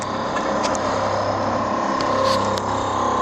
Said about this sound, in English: Sorry for the compressor noise in there.